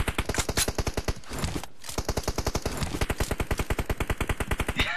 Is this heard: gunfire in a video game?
yes